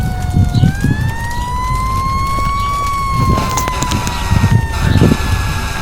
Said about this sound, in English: As you can hear, there's sirens coming and all that stuff.